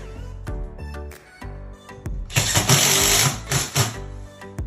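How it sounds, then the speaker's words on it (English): A power driver sinks wood screws to mount a pancake electrical box for a ceiling fan install, with short whirring bursts, pauses between them, then a louder, longer grinding run as a screw drives home, close by with no speech. "I got the fan support bracket installed with the 2 wood screws"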